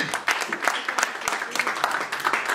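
A church congregation claps and acclaims the Lord in praise, with uneven bursts of hand clapping of moderate loudness. Voices call out over the clapping.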